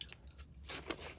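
Jalapeño popper flavored cheese puffs are bitten and chewed close to the mouth, giving a few faint, airy crunches in quick succession with no talk.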